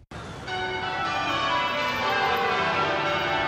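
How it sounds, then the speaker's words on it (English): Church bells tolling at Westminster Abbey in London, marking a royal birth; a dense, ringing peal of overlapping bell strikes sustains loudly and continuously with rich lingering overtones. "The bells at Westminster Abbey tolled today in honor of the newborn."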